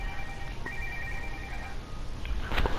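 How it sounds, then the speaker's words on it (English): A telephone rings in short electronic bursts against background noise, fairly loud, with a sharper click near the end and no clear talk over it. "Why is that phone so loud?"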